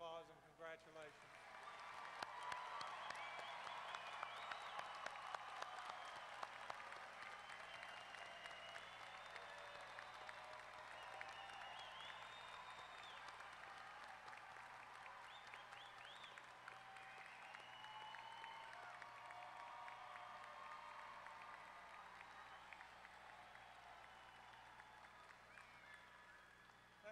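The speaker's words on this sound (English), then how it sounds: "let's give them a round of applause and congratulations." Large graduation commencement audience applauding at Texas A&M-Corpus Christi for the standing graduates, a steady dense roar of clapping and cheering that swells early and holds for nearly half a minute before tapering slightly.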